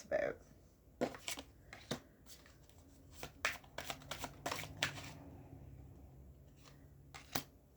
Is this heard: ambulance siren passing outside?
no